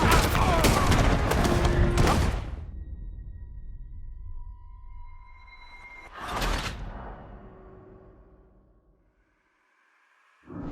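Bursts of gunfire in the video game Red Dead Redemption 2, a dense, loud volley that stops abruptly, then a second short burst after a lull of ringing tones.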